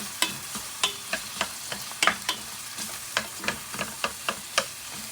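Chopped onion and garlic sautéing in a pan, a continuous sizzle broken by regular sharp scrapes of a spatula roughly every half second, close and clear with no talking.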